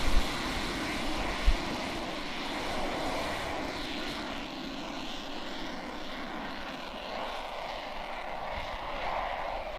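Propeller aircraft flying at the RAF Waddington air show, a steady droning engine roar sustained throughout at moderate distance, with a couple of brief thumps near the start.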